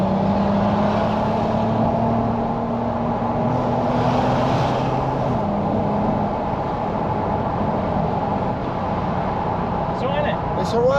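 An Audi TT 3.2 with a DSG gearbox accelerates while holding its gear, a steady engine drone sustained close-up with no shift for the whole stretch, and a voice talks over it.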